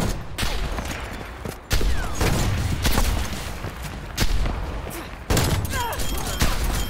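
Sniper rifle fire in Call of Duty Cold War, several sharp loud cracks spaced a second or so apart over a busy game background, with faint talk mixed in.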